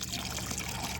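Fish amino acid poured into a cow dung base fertilizer mix, a brief close splashing trickle of liquid lasting about a second.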